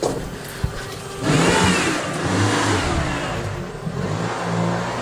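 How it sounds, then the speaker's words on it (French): A car drives in and pulls up at a house in a residential property, its mid-pitched engine rising after a quiet start and then running steadily close by before settling. "Là, il y a une voiture qui rentre."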